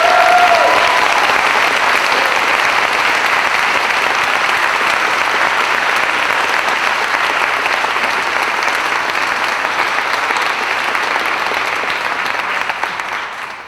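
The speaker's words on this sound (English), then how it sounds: "give Dr. Mary Frances Berry one more round of applause just for thanking her" Sustained, dense audience applause at an MLK convocation, steady and loud for about fourteen seconds before easing slightly at the end, with no voices over it.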